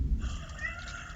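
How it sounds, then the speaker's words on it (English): A house cat meowing indoors over gameplay commentary, a single drawn-out meow close to the microphone. "Sorry about my cat."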